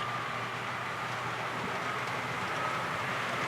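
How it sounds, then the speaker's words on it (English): A model railroad through train runs past on a layout, a steady continuous rumble and hiss of the passing train heard close and even throughout, with no talking. "here comes a through train"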